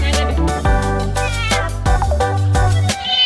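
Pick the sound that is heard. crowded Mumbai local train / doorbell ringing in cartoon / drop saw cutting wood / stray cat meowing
stray cat meowing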